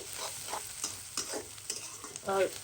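Onions frying in a pan with spices as the base for a rohu fish curry, a quiet sizzle broken by repeated stirring scrapes and clinks.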